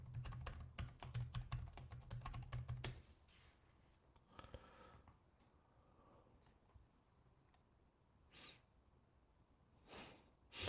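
Quick bursts of keystrokes on a computer keyboard as a password is typed, a rapid cluster of sharp clicks at the start followed by quiet room tone and a few scattered, fainter taps and a soft breath.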